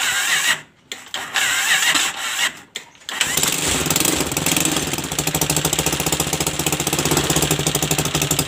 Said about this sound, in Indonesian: Oke, menyala, suaranya seperti traktor di sini nih.